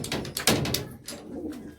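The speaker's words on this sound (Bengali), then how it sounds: "এই দেখে নর পায়রা," Male pigeons in a loft coo close by, a few deep, throbbing calls repeating in quick bursts with short pauses, and no talk over them.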